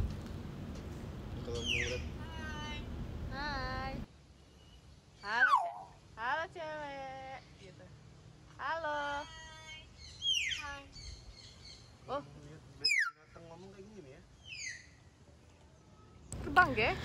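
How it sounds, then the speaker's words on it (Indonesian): A parrot at a zoo produces a series of whistles, chirps and squawky, speech-like calls in short bursts, with quiet pauses between; a person briefly speaks. "kalian bisa dengar si burung beo itu ngomong apa aja di sini"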